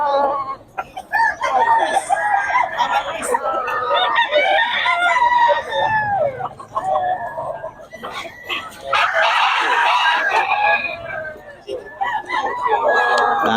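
A Pumpkin Sweater gamefowl rooster crows loudly and repeatedly, with clucking from other fowl around it, while someone talks throughout.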